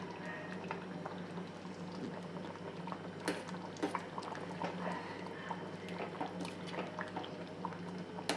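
Curd mixture boiling and reducing in a pot, a soft steady bubbling and popping heard close and fairly faint, with occasional sharper blips and no talk.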